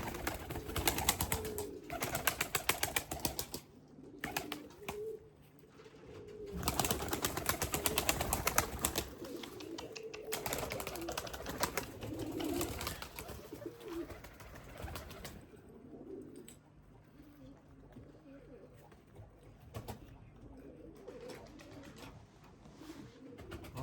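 Young Limoni pigeons, restless breeding birds just coming into feather, coo repeatedly at close range in a loft. The soft cooing rises and falls over a noisy background.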